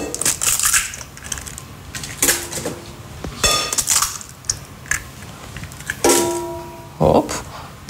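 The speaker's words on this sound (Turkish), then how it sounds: "Önce iki tane yumurtayı kıracağım." Two eggs cracked into a bowl during home cooking of stuffed meatballs, heard as a few sharp cracks and crunches mixed with clinks of shell and utensils against dishware, close and clear with short pauses between the sounds.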